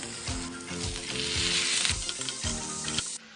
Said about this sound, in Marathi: कांदा गुलाबी होईपर्यंत परतायचा